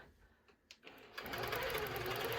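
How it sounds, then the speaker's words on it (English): A sewing machine starts up and stitches quilt fabric after oiling, with a few faint clicks before a close, steady whirring run of rapid needle strokes. "now I'm just going to stitch for a second because I know that that oil has to get spread around"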